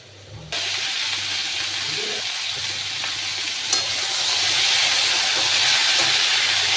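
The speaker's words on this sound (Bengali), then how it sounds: "আলুটাকে বেশ ভালো করে ভাজবো আগে" Potatoes for Bengali aloo posto fry in a pan with a loud, continuous close sizzle and hiss that starts suddenly and swells slightly louder toward the end, with no voices.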